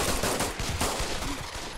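Rapid gunfire in the VR shooter Pavlov VR, a dense burst of loud, close shots firing in quick succession with no pauses.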